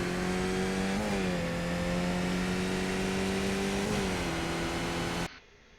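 A Skip Barber race car in the iRacing game accelerates at Phoenix International Raceway, its loud, steady engine drone climbing through gears with two quick shift dips before cutting off abruptly near the end.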